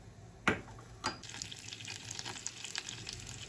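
Meat sizzles quietly as it sears in butter in a hot pan, with a couple of sharp bursts as pieces are turned and a soft, steady crackle between.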